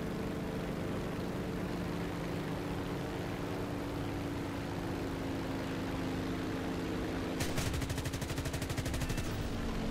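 An F4U-4B Corsair's quad .50 machine guns open up in War Thunder, a fast rattling burst near the end over a steady droning aircraft engine.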